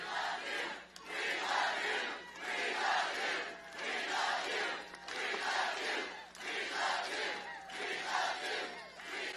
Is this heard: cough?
no